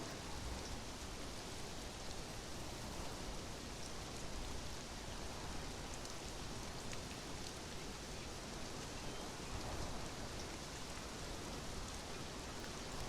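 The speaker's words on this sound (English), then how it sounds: "And it's raining." Faint, steady rain hisses evenly throughout, a soft continuous patter with no other sounds standing out.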